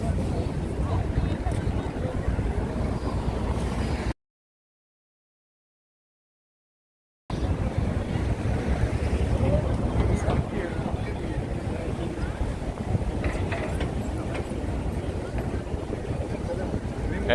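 Wind gusts across Times Square on a cold day near freezing, making a steady low rumble and buffeting against the microphone, with a short dropout partway through.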